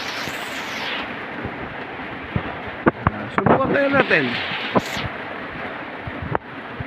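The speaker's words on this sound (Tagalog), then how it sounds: "walang tigil ang ulan, no?" Heavy storm rain during a typhoon pours down in a dense, steady hiss that fills the whole stretch, with a few sharp knocks and a person talking over it partway through.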